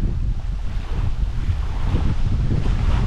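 Strong wind buffets the microphone at Nechranice reservoir during a carp fishing trip, a continuous loud low roar with gusty rumble filling the whole stretch and no voices.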